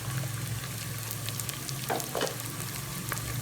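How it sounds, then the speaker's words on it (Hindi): Ginger, garlic and green chilli fry in a pan for sarson ka saag, a steady, even sizzle with light crackles and faint stirring, close by and without talk. "अब भुनाई करेंगे मुसलसल इसकी 5 से 4 मिनट अच्छे से, ताकि हमारा अदरक लहसुन और सब्ज़ मिर्च अच्छे से फ्राई हो जाए"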